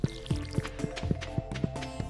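Filling the dog's water bowl in the video game Stardew Valley gives a quick run of repeated soft watery splashes in steady rhythm over game ambience, fairly quiet.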